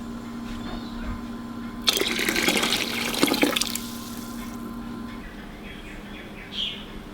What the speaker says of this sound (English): I'm just going to put in some more water till the water level rises again